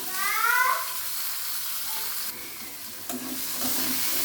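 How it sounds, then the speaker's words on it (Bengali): Onion, green chili and garlic stirred over medium heat in a pan, giving a steady close sizzle with scraping stir sounds and a brief squeaky scrape near the start. "পেঁয়াজটাকে কিছুক্ষণ নাড়াচাড়া করে নরম করে নিব মাঝারি জালে"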